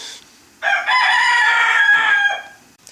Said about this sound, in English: we got two adult roosters that are crowing right now